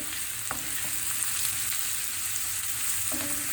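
Steady sizzling of peppers frying in hot olive oil, a constant hiss with a few faint clinks of stirring.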